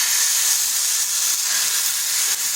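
A ladle of batter poured onto a hot oiled tawa, a loud steady bright sizzle and hiss, close and continuous with no talk.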